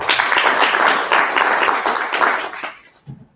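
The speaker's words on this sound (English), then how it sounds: "Aisha, maybe we can appreciate her with a hand clap." An audience at a high-level technical conference session gives a speaker a round of hand claps, dense steady applause filling the room that fades out near the end.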